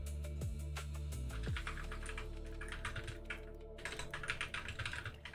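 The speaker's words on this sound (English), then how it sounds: "Forgive my typing." Typing on a computer keyboard at a desk during a 3D modeling session, a steady run of quick clicky keystrokes over a constant background hum, with no talking.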